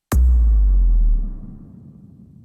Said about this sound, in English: we just have this one impact here at the very end of the track, mostly just to signify that the song is over